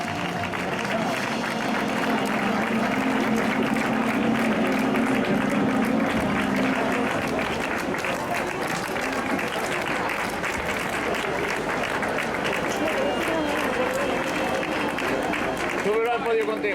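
Crowd applause at a trophy ceremony for a popular charity race in Llanera rolls on steadily for the whole stretch, a dense close clapping with a few voices mixed in.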